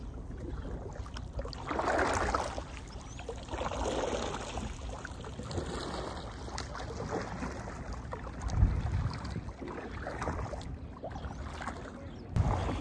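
An Oru folding kayak is paddled through a sweep turn on open water, with steady broadband water wash and paddle strokes rising and falling, some wind noise, and a few louder splashes near the end.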